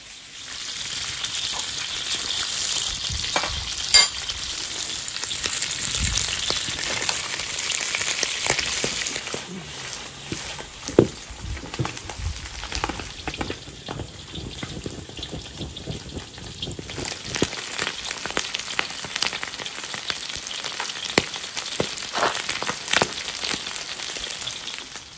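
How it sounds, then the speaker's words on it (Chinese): A whole air-dried fish frying in an iron wok, a steady loud sizzle and crackle of hot oil running throughout with occasional sharper spits and stirring scrapes. "把这个鱼煎到两面金黄，"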